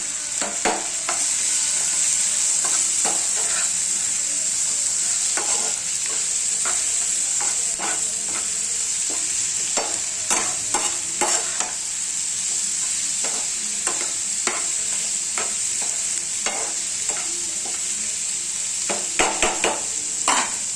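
Green chilli and a pinch of mutton masala fry in hot oil in a pan for tomato chutney, a bright constant sizzle broken by repeated close scraping and clinking strokes of a stirring spoon, no talking.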